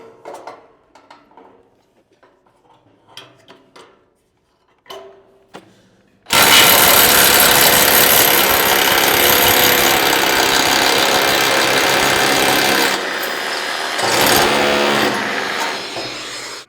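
A power drill drives screws into a welded door frame, loud and continuous, starting abruptly after a stretch of faint scattered knocks and handling noises, then easing slightly in level near the end.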